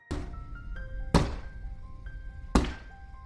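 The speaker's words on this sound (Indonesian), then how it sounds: "pembunuh itu kembali menakuti Maddie dengan membawa mayat Sarah dan mengetuk-ketukkan tangan Sarah ke kaca jendela" A hand knocks against window glass in a psychopath thriller film, giving three sharp, separate thunks spaced about a second apart over a quiet, tonal background.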